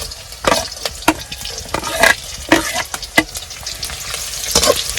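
Onions sizzling and frying in a pan for a Kashmiri winter family dish of daan (damur), a steady crackling sizzle with sharp spattering pops and stirring clatter, fairly close, with no voices.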